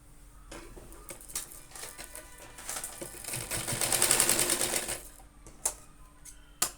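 Sewing machine stitching a cloth bag, a rapid mechanical whirr in short bursts that swells to a longer run in the middle, close and fairly quiet, with no talking.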